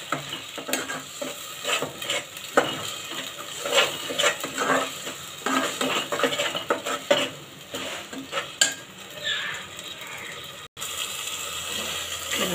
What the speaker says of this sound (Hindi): पिसा हुआ मसाला। इसे भी अच्छे से भून लेंगे।